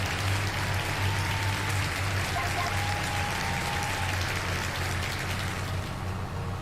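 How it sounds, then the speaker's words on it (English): Applause rings out during a Farming Simulator 22 livestream as a continuous, even crackle of clapping over a low steady hum, with a faint brief tone in the middle. "everybody give him a big old round of applause"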